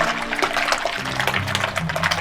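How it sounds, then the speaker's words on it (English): Water sloshes and swirls steadily in a bowl with soap root, close by, with a continuous splashing wash and no voices. "swish it around the water here"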